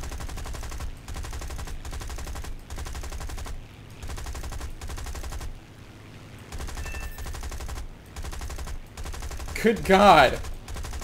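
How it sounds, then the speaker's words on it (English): Aircraft machine guns firing in War Thunder, a steady train of loud, rapid bursts with brief pauses between them, then a short exclaiming voice near the end. "Okay, my guns are about to jam."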